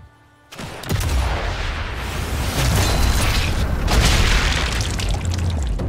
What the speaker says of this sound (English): My bullet just ricocheted off his gun